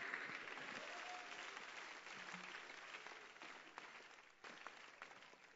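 Broad, sustained applause from a church audience fills the space, many hands clapping steadily at a fairly distant, faint level, with a brief dip near the end before resuming.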